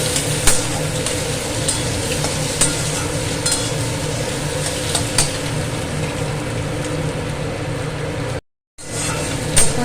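Leafy greens frying with coconut in a pan while being stirred slowly: a steady close sizzle with soft scraping strokes throughout, cut by a brief silent gap near the end.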